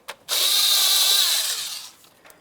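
A power tool fitted with an 8mm driver spins to loosen a clamp on the throttle body of a 1998-2002 Lincoln Navigator, a single loud, high whirring burst of about a second and a half that winds down, with faint clicks around it.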